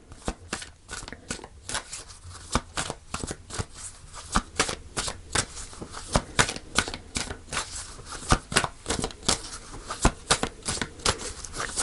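Tarot cards are shuffled by hand in a quick run of crisp riffling snaps and soft papery flutters, close and fairly quiet, with no talking.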